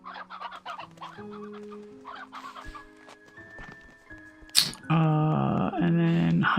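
Briar hens in a video game cluck and squawk in bursts, with game tones and chimes layered over them and a louder, busier stretch near the end.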